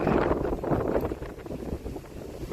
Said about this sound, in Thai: โอ้ลมแรง